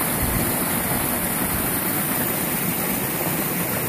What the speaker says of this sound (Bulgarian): Вода изтича все пак в реката.